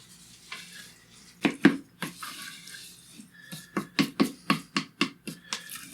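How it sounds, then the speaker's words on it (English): Corn coated in mayo and sour cream gets stirred in a bowl for skillet elote, giving a string of wet, clacking scrapes and knocks of a utensil against the bowl, sporadic at first and then a steady rhythmic run, close and clear with no talking. "You just kind of mix it around. Coat the corn with some of that mayo"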